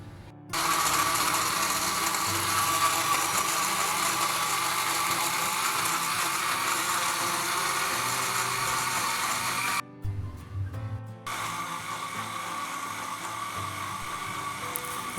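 A blender whirs loudly and steadily as it blends pineapple juice with crushed sugar, a dense continuous motor roar that breaks off briefly near the end and then resumes.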